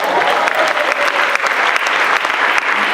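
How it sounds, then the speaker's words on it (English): Loud, dense audience applause fills a stand-up comedy show venue, steady and continuous without a break. "Round of applause for Jesus."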